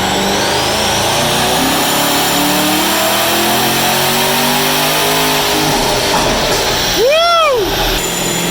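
Twin-turbo C8 Corvette roaring on a dyno, a loud sustained high-rpm engine note with a sharp rising-and-falling rev sweep near the end, close and continuous.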